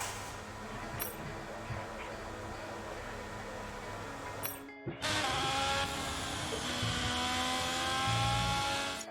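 The engine of a 2023 Alfa Romeo Formula 1 car in the F1 22 racing game at the Australia circuit, a faint steady hum at first, then after a brief dropout a louder, continuous high-pitched whine.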